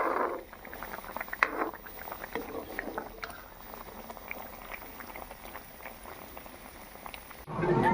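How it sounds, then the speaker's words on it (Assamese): Fish curry with tomato simmering in a pot, a soft, steady bubbling and crackle running close and continuous, with brief louder sizzles near the start and end. "এতিয়া বিলাহী টেঙাৰ লগত জোল বনাইছে"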